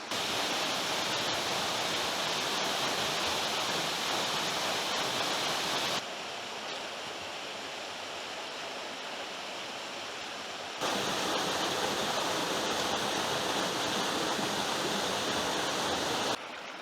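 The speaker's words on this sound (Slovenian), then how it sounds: "Tole je zadnji izmed slapov." Zapotok waterfall pouring through a gorge in the Trenta valley area, a steady full roar of falling water that drops to a softer level midway and then swells back, with no voices.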